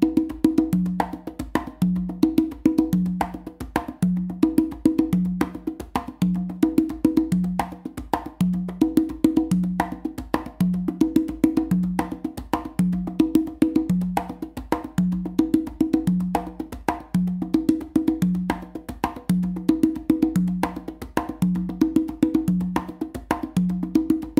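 Congas played in an a caballo galloping pattern at normal speed, a steady repeating rhythm of open and muted tones, close and moderately loud, continuing alone without talk.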